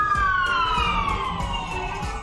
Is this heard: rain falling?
no